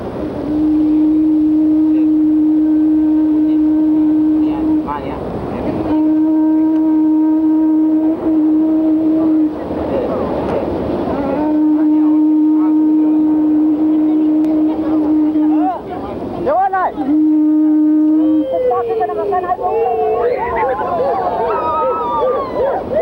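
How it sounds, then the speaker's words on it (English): Big trumpet conch shells blow long, monotonous sustained blasts in a series of separate calls, signalling the arrival of a Kula canoe from Kitava on the Trobriand Islands, loud and near. "Monotonous signals from the big trumpet conch, the Kula canoe from Kitava announces its arrival on Eva."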